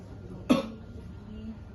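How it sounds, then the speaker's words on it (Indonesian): A single short, sharp cough, made on purpose as a demonstration with the mouth covered, close to the microphone and standing alone against a quiet room background. "tutup mulutnya, batuk"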